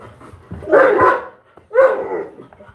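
A pet dog barks for attention indoors during a hot evening live stream, giving two loud, close, drawn-out bark-whine bursts about a second apart, with no talking over them.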